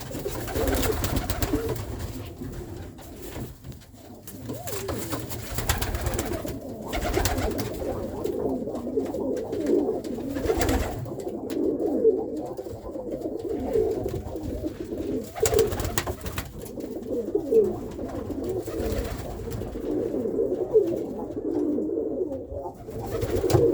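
Irish tumbler pigeon cocks, two yearlings fighting, coo in a steady, dense stream of low throaty calls close by, with wing flaps and scuffles breaking through now and then.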